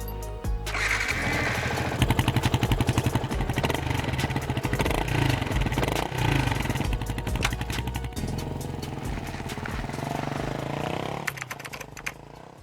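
A motorcycle runs in point-of-view riding footage, its engine buzzing loud and steady with rapid rattling firing pulses throughout and shifts in pitch midway.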